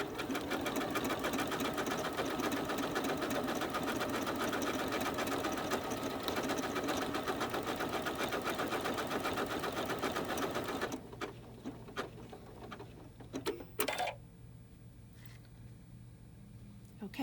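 A Janome 9450 computerized sewing machine stitches steadily at close range for about eleven seconds, then stops automatically, leaving quiet room noise with a few faint clicks.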